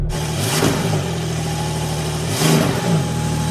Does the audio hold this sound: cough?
no